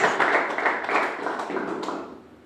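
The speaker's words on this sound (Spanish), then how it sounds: "Dele ese aplauso fuerte al Rey de la Gloria" A church congregation applauding loudly and steadily through a worship service, the dense clapping sustained without a break.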